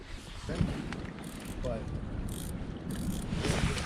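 A fishing reel's drag clicks and ratchets near the microphone while the line is let out on a fishing trip near floating ice, a mechanical whirring with wind and outdoor noise behind it and people talking in between.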